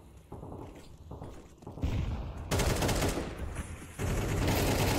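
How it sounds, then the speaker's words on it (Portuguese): Gunfire from a Counter-Strike match at the Roobet Cup 2023 esports event, with rapid shots and bursts building in loudness and density over a few seconds, with no voices over them. "Agora, alguns disparos, o Yuri pega uma eliminação"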